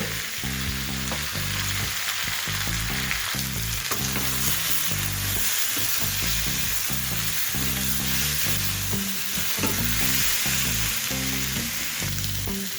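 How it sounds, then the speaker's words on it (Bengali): Eggplant and tomato fry together in a pan for a mustard fish curry, a dense, constant sizzle and crackle heard close, with occasional stirring knocks and steady music playing underneath throughout. "আরও 2 থেকে 3 মিনিট আমি সমস্ত কিছু একসাথে ভেজে নিয়েছি"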